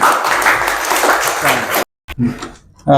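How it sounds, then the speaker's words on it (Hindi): Schoolchildren at a primary school admission festival in Kotdwar applaud a classmate in a dense burst of clapping that fills nearly two seconds, then it stops abruptly and a few voices speak. "चलो तालियां बजाओ उसके"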